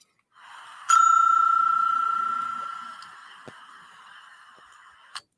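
A single bright bell ding, likely a desk or service bell, rings out near the start during a New York podcast episode. It is sharp and loud, then holds a long ringing tone that fades slowly over a quiet room.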